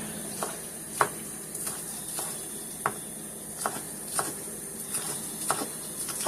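Onion sizzling in a hot pan while cooking stuffed salmon with shrimp, a steady bright hiss broken by scattered soft pops and crackles, close and even.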